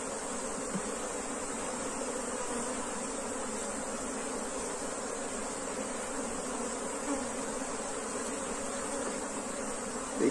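Dense, steady drone of a honey bee swarm buzzing around a hive box, continuous and fairly close throughout, with no talking.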